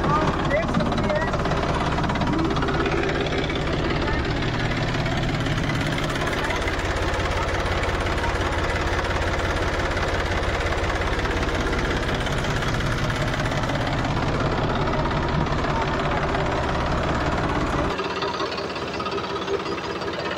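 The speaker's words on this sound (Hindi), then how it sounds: "तो आगे निकल चुका है ट्रैक्टर" A tractor's diesel engine chugs steadily and loudly nearby for the whole stretch as it rolls over a trolley bag, its low knocking drone continuing under occasional voices before dropping off near the end.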